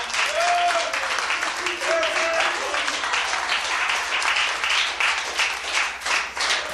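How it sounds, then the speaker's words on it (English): Crowd applauding for wrestler Nature Boy Buddy Landell at a wrestling press conference, steady loud clapping throughout with a few cheers, and a voice speaking briefly near the start. "big round of applause for Nature Boy Buddy Landell"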